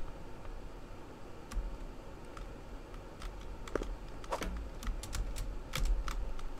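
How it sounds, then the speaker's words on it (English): Computer keyboard keys are pressed hard during PC gaming, giving irregular clusters of sharp clicks and taps over a low background hiss, with no talking. "My fingers are hurting because I'm pressing so hard on my keyboard"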